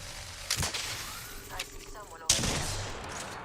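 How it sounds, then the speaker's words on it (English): Gunfire in a video game: a few sharp shots and a short burst ring out against game ambience, with voices chatting briefly. "Somebody's shooting at us."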